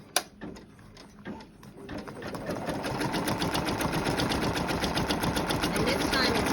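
An embroidery machine stitches a white flower onto a pair of jeans, starting after a few clicks and settling into a fast, steady mechanical rattle of needle strokes that grows louder, with a voice speaking over the start.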